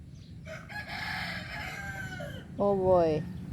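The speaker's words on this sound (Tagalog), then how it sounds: "the chicken is singing" A chicken crows in a drawn-out, wavering call, then breaks into a short, louder squawking cluck, close by and heard on its own.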